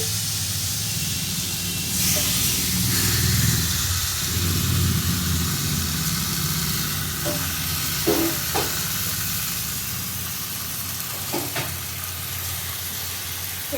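Fish pieces laid in a wok for steaming sizzle and hiss loudly and continuously, with steam rising and a few clattering knocks of utensils near the end.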